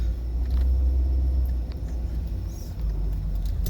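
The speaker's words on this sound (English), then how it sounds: "Let's park our car, our vehicle, and go from there." Car driving slowly to park, a close low engine rumble that dips briefly before steadying.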